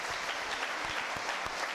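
A church congregation claps steadily during a service, a dense patter of many hands applauding together at a moderate distance.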